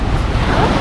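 Waves clashing at a sandbar on Gigantes Island in the Philippines, a continuous rushing surf wash mixed with wind noise on the microphone, loud and close for under a second.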